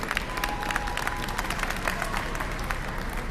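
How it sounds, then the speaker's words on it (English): Audience applause at a topping-out celebration for a new entertainment and sports arena, a thin, scattered patter of clapping from a small handful of people, fairly faint and even throughout. "thank you for the applause from 5 people."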